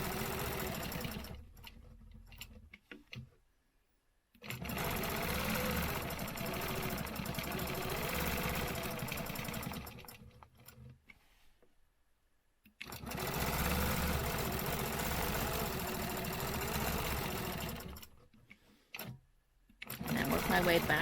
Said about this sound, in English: So I'm going to go ahead and stitch these.